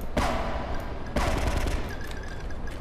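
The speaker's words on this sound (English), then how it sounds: "I heard gunshots." Two sharp, loud gunshot bursts in the video game Grand Theft Auto: Liberty Unleashed ring out about a second apart, each followed by a lingering echoing tail, with a dense rumble underneath.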